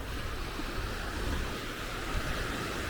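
Ocean waves wash steadily onto a sandy beach in Pattaya, Thailand, a continuous broad surf roar with wind buffeting the microphone, no voices.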